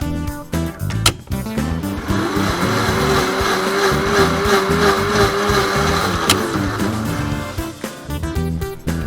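A toy blender mixing strawberries, milk and sugar for ice cream runs with a steady mechanical whir, with clicks at the start and end and a brief spike midway.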